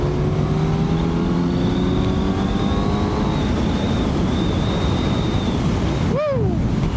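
A Kawasaki Z900 motorcycle engine pulls hard as it accelerates, its rising engine note running under heavy wind rush, ending with a brief sharp swoop near the end.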